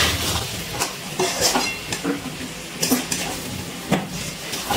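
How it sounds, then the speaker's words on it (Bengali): A spoon scraping and clinking in a pot while egg and fried potato are stirred with spices for egg biryani, a soft sizzle beneath repeated close utensil knocks. "ডিম আর আলু মশলার সাথে ভালো করে একটু মিশিয়ে নিচ্ছি।"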